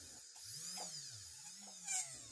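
A small drill bores into jewelry carving wax for a prong setting, with a faint whirring whine rising and falling in short pulses, close and quiet.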